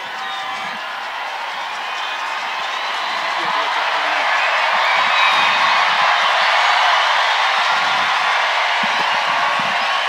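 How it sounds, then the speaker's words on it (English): Race crowd at a stadium finish cheering and applauding for elite road runners, a broad, sustained roar that swells gradually and stays loud throughout. "we want to hear this crowd give them the welcome that they deserve"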